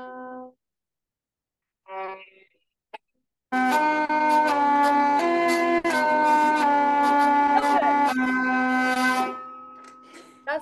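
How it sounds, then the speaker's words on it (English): A few short droning squeaks from a hurdy-gurdy, then a sustained buzzing drone with a reedy melody rising over it, bright and nasal, played solo up close. "So the Hurdy Gurdy is a typical German folk instrument"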